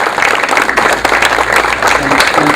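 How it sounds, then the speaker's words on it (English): A crowd at a school-system event gives Kevin Maxwell a loud, full round of applause. The dense clapping is close and sustained, with a few voices murmuring underneath. "Kevin Maxwell, if you can give him a round of applause"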